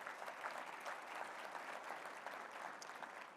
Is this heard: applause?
yes